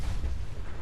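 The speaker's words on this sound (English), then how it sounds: "He added an extra couple of explosions, and I don't really know why" Rocket explosions from a handmade rocket rifle in Fallout 4 rumble low and heavy, a continuous booming blast filling the whole moment.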